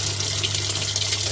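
Water gushes fast through a repaired washing machine inlet valve with a patched, glued 27mm diaphragm, a steady, close, loud hiss of running flow with a low hum beneath.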